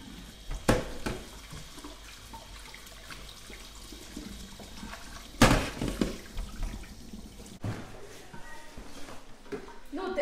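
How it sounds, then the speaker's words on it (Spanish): Water runs from a tap at home, a steady rushing hiss lasting several seconds with louder splashes and knocks, while people talk nearby. "No dejes correr el agua."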